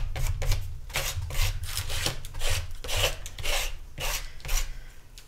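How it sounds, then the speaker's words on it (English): A credit card scrapes gesso across a paper book page in an altered book, making a continuous close rasping rub in repeated back-and-forth strokes with no voices. "squeezing out a wee bit of gesso on my credit card and scraping it across the page"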